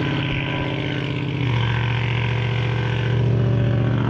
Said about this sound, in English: People around here don't believe in mufflers.